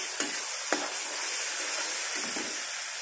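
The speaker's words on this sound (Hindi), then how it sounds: "अच्छे से मिक्स करना है, फ्राई करना है मसाले को" A spice masala of turmeric and red chili powder fries with tomato for fish curry, making a dense, even hiss up close with a couple of quick stirring knocks near the start and no voices.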